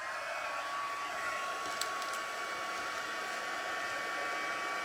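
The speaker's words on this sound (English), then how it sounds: "Let's grab our heat tool." An embossing heat tool blows hot air over gold embossing powder on espresso cardstock, a loud, steady whooshing hum with an even tone that runs unbroken the whole time.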